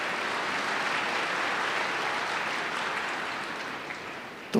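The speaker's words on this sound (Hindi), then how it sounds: "हाँ बजा लो ताली।" A seated yoga-class audience claps together in dense, sustained applause that holds steady and loud, then fades slightly before a brief sharp burst at the very end.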